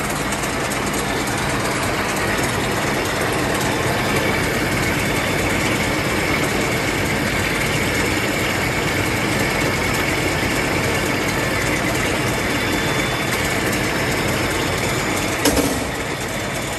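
A CtD bowling ball surface scanner machine running with a steady, loud mechanical hum and rumble that holds constant throughout, broken only by a short clunk near the end.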